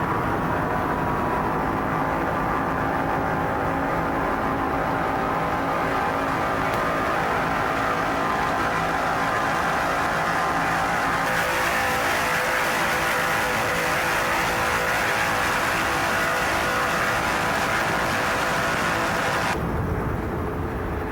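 Racing powerboat engine from an onboard driver's-seat camera at a 1993 lake race: a loud, continuous roar with wind and water rush, steady throughout and shifting in tone partway, no voices.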